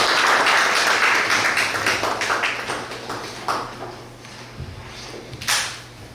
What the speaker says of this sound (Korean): 큰 박수로 환영을 해주십시오.